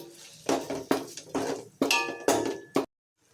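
A spoon stirs salt, onions and tomatoes in a metal pot for Ambur chicken biryani, giving about seven sharp scraping clinks at an irregular rhythm, close and clear, before a sudden stop.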